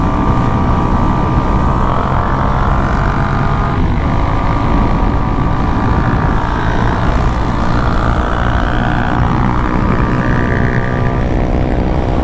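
A Suzuki DRZ 400 Supermoto motorcycle ridden on the road in Mexico, its engine droning steadily and loud throughout, blended with heavy wind rush, no speech over it.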